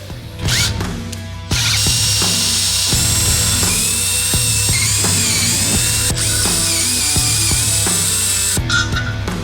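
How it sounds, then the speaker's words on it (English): A power drill whines steadily and loudly into a metal adapter plate for a gearbox, with grinding and clicking throughout and brief pauses at the start and end. "Hopefully I can drill this straight."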